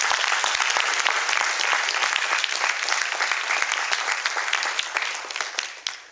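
A church congregation at a sermon bursts into vigorous, sustained applause with dense overlapping claps, staying strong before tapering slightly at the end.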